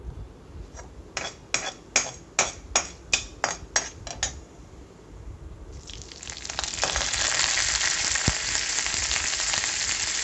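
Urad dal and curry leaves frying in hot oil for a lemon rice tempering: a quick run of sharp clicks and taps, then a loud, steady sizzle that swells and holds close by, with no talking.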